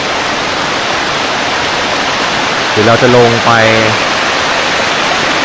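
Ko Luang waterfall in Li district, Lamphun, gives off a loud, constant broadband rush of falling water, and someone speaks briefly partway through.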